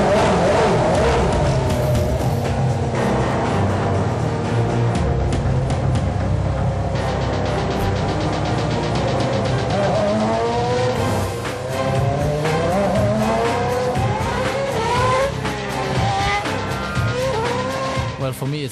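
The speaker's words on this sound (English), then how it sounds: "Stepping into the car for the very first time, starting the engine for the very first lap." Red Bull racing car engine on its first lap, a loud sustained roar with rising and falling revs and tire squeal, layered under music and voices throughout.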